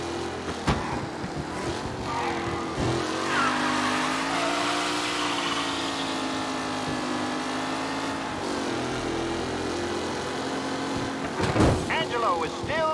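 Race cars roar through a race in Mafia Definitive Edition, engines droning steadily for long stretches with tire noise and a sharp skid near the end, while a commentator's voice runs over the top.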